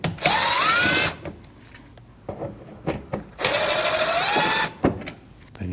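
Cordless power drill backing out Phillips screws from the mud flap of a Nissan NV2500 van, two loud close bursts of high whirring with rising pitch, separated by quieter clicks and handling noises.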